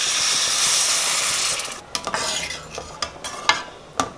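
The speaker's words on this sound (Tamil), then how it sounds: "சாம்பார் பொடி போட்டு வதக்கிடுவோம்" Vegetables sautéed with sambar powder in a pan give off a loud, even sizzle, which drops away as a spoon scrapes and clacks against the pan in several sharp, irregular strokes.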